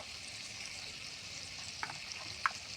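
Fish head and pumpkin frying in a pan as ground turmeric and chili powder go in, a faint steady sizzle with a couple of light clicks of a spoon near the end.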